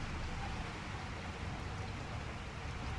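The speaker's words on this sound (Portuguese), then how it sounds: "Vocês viram que do nada começou a chover, né?" Steady rain pours in the Resident Evil 4 HD Edition video game, a constant, even hiss of falling water with no other sounds on top.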